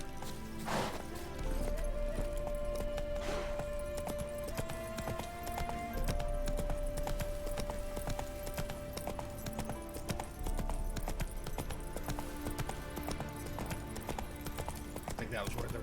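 Hooves of Geralt's horse Roach clip-clop steadily in The Witcher 3, a continuous trotting rhythm under background game music and ambience.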